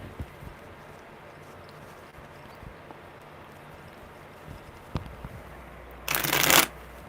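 A single brief riffle of a tarot deck near the end, close and crisp, after a stretch of quiet room noise with a few faint taps.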